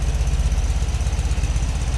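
A 1970 Volkswagen Beetle street rod's 1650 cc horizontal four-cylinder air-cooled engine with dual-port heads and dual carbs idles steadily up close, a low rhythmic chugging throb with no voices.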